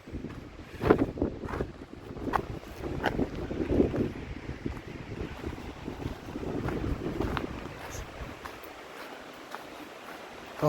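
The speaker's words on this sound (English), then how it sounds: "Windy. It's a gale force wind." Gale force wind at Rathtrevor beach beside a campground, loud gusty buffeting and rumbling against the microphone with surging and easing bursts, fading somewhat near the end, no talk.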